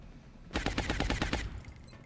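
A rapid burst of about eight gunshots fired at an alien in the video game XCOM: Long War, loud and close, followed by a quiet tail.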